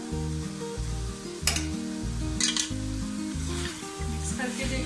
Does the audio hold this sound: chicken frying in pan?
yes